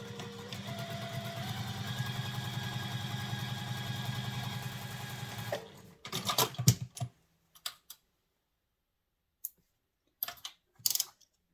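A sewing machine stitches the side seam of a fabric handbag in one steady run of about five seconds. Its motor hums close by, then it stops and a few short clicks and handling sounds follow.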